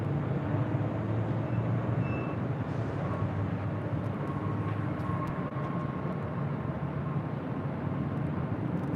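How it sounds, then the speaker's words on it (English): A 21-year-old Delta Airlines Airbus A319 jet at LAX, bound for Las Vegas, gives off a continuous broad engine rumble and whine at fairly close range that holds steady throughout, with no voices. "this is Delta Airlines Flight 2253 heading to Las Vegas in this A319"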